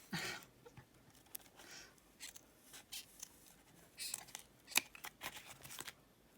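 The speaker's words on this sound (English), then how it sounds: "It's not quite so easy to cut out a second time." Scissors snipping out a fabric collage piece for a Christmas wreath, heard as quiet, scattered cuts and rustles of cloth with a few sharper clicks, close and alone.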